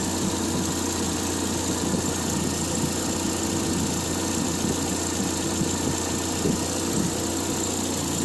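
A Triumph Spitfire engine idles steadily at close range, with a loud, even rumble and no voices. It is running for the first time in months, with a newly fitted exhaust.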